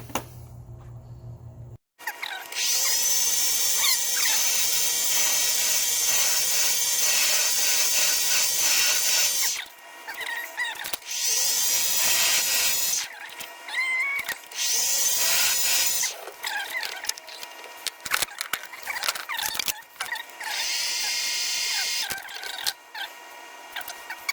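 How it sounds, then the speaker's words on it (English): A lathe turns down a part for a zero-turn mower starter with a loud, steady whine and cutting hiss that runs for several seconds, stops briefly, then comes back in shorter stretches mixed with clanks, and no voices. "So I'm gonna chuck this up in a lathe and take 20 thousandths off of this and see what happens."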